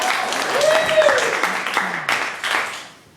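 Comedy club crowd clapping for the previous comedian, moderate applause mixed with whoops and cheers that tapers off near the end.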